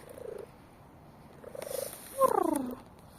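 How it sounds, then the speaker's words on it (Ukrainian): A cat purring close by in short rippling bursts, ending with a brighter trill that slides downward. "Який гарний котик."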